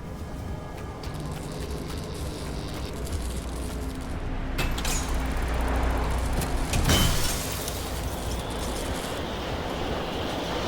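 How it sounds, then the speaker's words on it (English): A car engine idles steadily in the Pacific Drive video game, a constant low rumble with a broad, even noise that swells slightly partway through and then settles. "I'll leave the car running."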